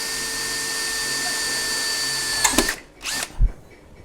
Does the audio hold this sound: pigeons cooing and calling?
no